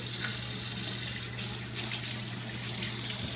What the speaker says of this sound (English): they need to be rinsed off first, okay? So let's rinse them. Give them a good washing.